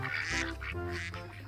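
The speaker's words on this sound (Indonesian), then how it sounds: "Wow, ternyata ini namanya bebek angsa." A toy duck-goose gives a few quick, nasal quacks in a short, close, clear burst with no talking over it.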